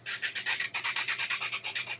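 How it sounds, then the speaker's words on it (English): Gator sander scuffing an old paintbrush, making a rhythmic rasping scratch in quick repeated strokes, close up and alone with no voices. "So we're going to take my gator sander"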